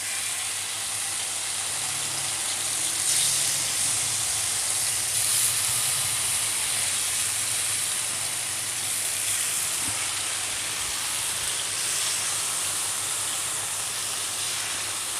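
Chicken pieces frying in about three tablespoons of oil over a medium flame, a steady close hiss and sizzle with soft crackles running evenly throughout.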